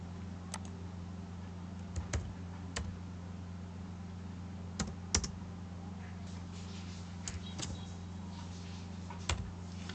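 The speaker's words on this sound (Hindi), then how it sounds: "फिर इफ का फार्मूला टाइप करेंगे" Computer keyboard keys tapped while entering an IF formula into a Microsoft Excel 2007 spreadsheet: sparse, irregular clicks, single and in short bursts, fairly close over a steady low electrical hum, with no talking.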